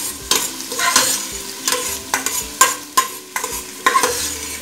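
Shrimp patty mixture frying in a pan, a close crackling sizzle punctuated by regular scraping strokes of a utensil, about eight distinct stirs over the cooking hiss.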